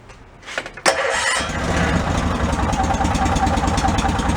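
A few sputtering cranks, then the small engine of a Cushman Meter Maid utility vehicle with a custom exhaust catches and settles into a steady, loud rumbling run.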